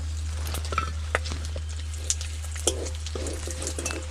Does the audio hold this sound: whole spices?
yes